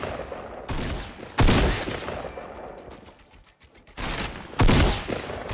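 Loud shotgun blasts in Fortnite boom in separate bursts, two heavy shots each followed by a trailing rumble, with a quieter gap in between.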